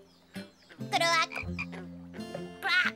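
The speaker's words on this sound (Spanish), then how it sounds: "¡Ahí hay otra rana!" A cartoon frog croaks in a short series of loud, nearby, voiced croaks with a bright, rasping edge, heard on its own for a few seconds.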